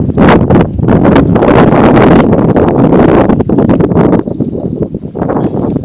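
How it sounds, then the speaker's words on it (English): Strong wind gusting across a microphone outdoors on a residential close in Hebburn, loud buffeting rumbles and rushes in close, uneven bursts throughout, easing slightly near the end. "The wind's picking up again."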